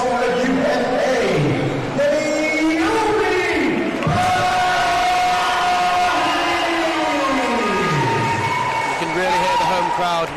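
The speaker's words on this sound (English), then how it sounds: "crowd in favour of Naomi" At a live boxing event, a crowd roars and chants in support of boxer Naomi Powis, a dense sustained wall of voices with rising and falling cheers, while an announcer speaks over it.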